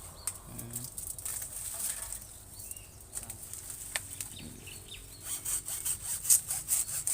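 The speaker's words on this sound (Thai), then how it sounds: "เอาเลื่อยตัดออกเลยนี่" A hand saw rasps through a banana stalk in uneven strokes, fairly faint against outdoor background noise in a garden, with some scraping near the end.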